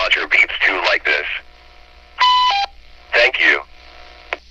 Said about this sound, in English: And you can also add Roger beeps too like this.